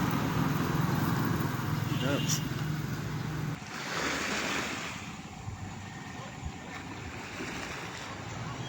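Sea waves wash against the shore beside a seaside highway while gusty wind buffets the microphone, a steady rushing roar that eases slightly partway through.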